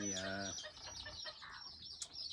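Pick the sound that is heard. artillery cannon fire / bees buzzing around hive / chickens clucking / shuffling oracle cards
chickens clucking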